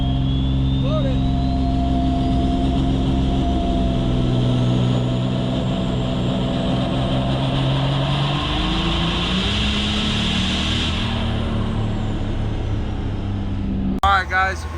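Diesel truck engine roaring steadily under load on a dyno at a diesel challenge event in Hub City, Wisconsin, a loud continuous drone with a shifting pitch that sags near the end before the run cuts off, voices faint underneath.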